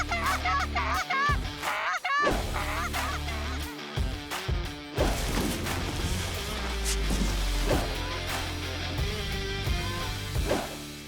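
Geese on a hunting trip honk loudly in rapid, overlapping bursts, calls stacking into a noisy chorus with thumps and clatter mixed in, no talk.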